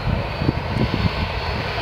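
Airplane engine during a landing at Lanzarote, heard from inside the cabin as a steady loud roar and rumble. The sound is continuous and close, with no clear talking.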